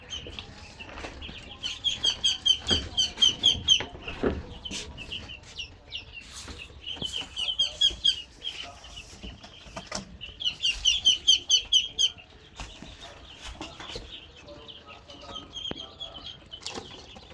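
Young ducks and ducklings, pure khaki Campbell, chirp and peep in bursts of rapid high calls, fairly close, with wing flaps and shuffling between the calls.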